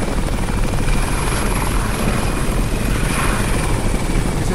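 Helicopter in the Jurassic Dream video game, a loud steady rotor and engine drone that fills the whole stretch without pause, close and constant with no voices over it.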